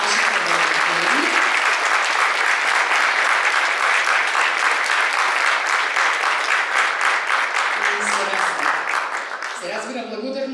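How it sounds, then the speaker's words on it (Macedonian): An audience at a nursing-history society promotion event claps loudly and continuously for colleagues, dense steady applause that begins to thin near the end as a voice starts speaking. "Ве молам еден огромен аплауз за нашите колеги."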